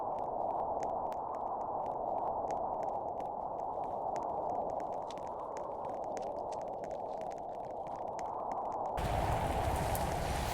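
Steady rain patter falls in a Roblox natural disasters game, a constant hiss with fine drop ticks throughout, swelling louder and rougher near the end.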